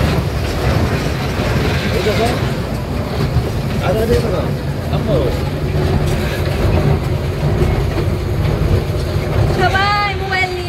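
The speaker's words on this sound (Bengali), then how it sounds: "এখন আমরা ট্রেনে ভ্রমণ করছি।" A ride on a zoo train gives a loud, steady rumble of wheels and motor, with voices chattering nearby and a brief high whine near the end.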